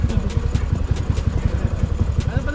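Small scooter-type motorcycle engine of about 160cc idling close by, a steady fast rhythmic putter with even pulses throughout and no talking over it.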